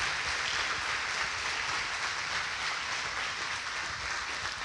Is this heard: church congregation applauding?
yes